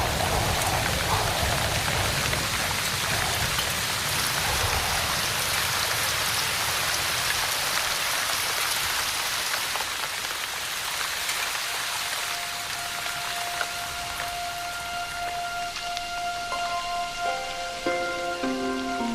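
Heavy rain in the Maya jungle at the end of the dry season, a dense steady hiss of drops drenching the foliage, continuous and close with no pauses.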